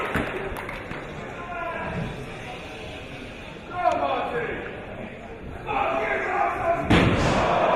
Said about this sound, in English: Scurll just slams him down to the canvas.